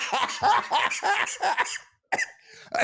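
A run of several harsh coughs in quick succession, loud and close, followed by a brief pause and a couple more coughing bursts.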